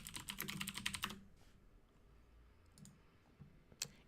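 Rapid typing on a computer keyboard, a quick burst of close clicking keystrokes in the first second, followed by quiet with a couple of isolated clicks later.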